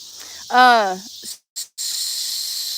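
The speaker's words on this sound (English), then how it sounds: "Or is the cicadas too loud?" Cicadas drone in a steady high-pitched buzz around a rural homestead, broken by a brief rising, voice-like sound and a few short gaps.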